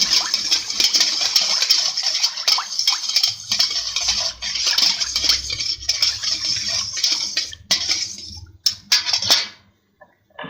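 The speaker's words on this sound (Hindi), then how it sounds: "अब हम इसे अच्छे से मिक्स कर लेंगे।" Ingredients for dahi phulki, with chopped green chili and red chili among the spices, stirred together in a bowl in a home kitchen: steady close scraping and clinking of a spoon against the bowl, then a few sharper taps before stopping.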